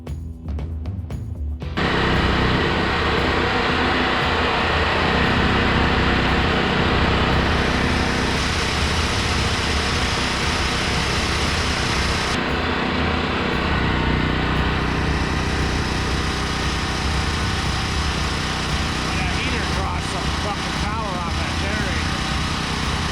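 A portable generator runs outdoors beside a 1990 tri-axle dump truck, powering a battery charger. Its small engine drones close by in a steady, unbroken hum.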